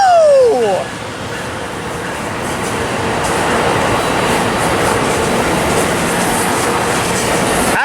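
An Amtrak passenger train passes heading into San Diego: a steady, loud rolling rumble of wagons and wheels that continues throughout, starting after a brief higher squeal at the beginning.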